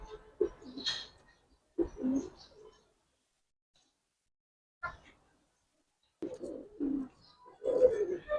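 Giribaz pigeons at a pigeon farm give short, soft coos in scattered bursts, close by, with quiet gaps between calls and no talking.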